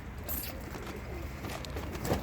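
Pigeons coo softly amid a low background murmur, with a few faint flutters and calls.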